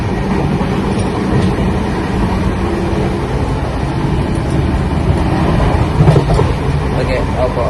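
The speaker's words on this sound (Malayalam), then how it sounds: "ട്രെയിൻ പോയിക്കോൾ" A train rumbles past steadily and loudly for the whole stretch, with the rolling clatter of its wagons heard close by and a voice now and then underneath.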